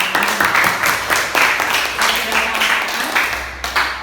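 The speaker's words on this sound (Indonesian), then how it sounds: "Ya, beri tepuk tangan buat" Brief classroom applause during a mathematics lesson, a small group of students clapping in uneven bursts that rise and fade over a few seconds, fairly close and moderately loud.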